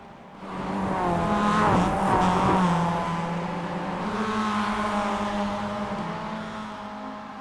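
Race cars in iRacing roar in a tight pack, engines droning and shifting pitch together with faint tire squeal, loud and continuous as several cars run close.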